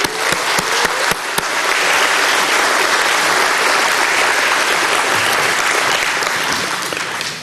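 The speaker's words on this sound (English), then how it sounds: "I'd ask for a round of applause to all of the sponsors to help put this event on financially" Sustained applause from an audience at an aviation hall of fame ceremony, a steady dense wash of clapping with a few sharp early claps, loud and continuous for several seconds before tapering off.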